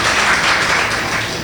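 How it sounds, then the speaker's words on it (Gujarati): Audience applause at a Gujarati religious sermon, a dense steady burst of many hands clapping at once, loud and filling the moment with no talk over it. "તાળી પાડીએ આપણે."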